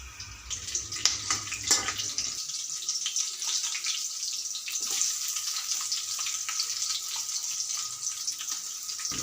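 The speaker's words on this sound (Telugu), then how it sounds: "ఆయిల్ కూడా వేస్తానండి, కొంచెం వేడెక్కితే ఉల్లిపాయలు వేపుకుంటాం, పచ్చిమిరపకాయలు, కొంచెం కరివేపాకు వేసుకున్నాను." Onions, green chillies and curry leaves fry in hot oil, a continuous close sizzling hiss that follows a brief clatter at the start and then stays even and steady.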